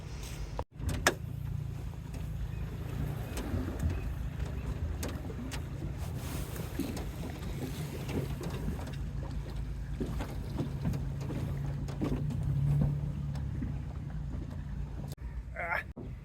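A boat engine rumbles steadily at close range with a low, continuous drone as the boat backs out onto the water, joined by faint splashing and a brief knock near the start.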